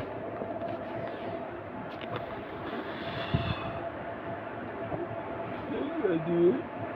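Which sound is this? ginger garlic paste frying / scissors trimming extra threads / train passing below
train passing below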